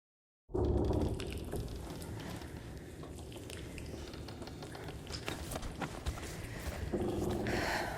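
A dog barking in INDIKA, starting abruptly after a moment of silence: a steady, agitated run of barks and scrabbling over a busy background, growing louder toward the end.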